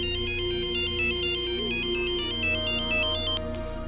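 A mobile phone rings with an incoming call, playing a repeating electronic melody of short bright tones in a steady rhythm, loud and close with no one talking.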